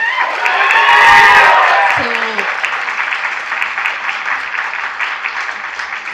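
An audience at an event applauds loudly with a dense, sustained wash of clapping that swells and then continues steadily, while a voice speaks briefly partway through.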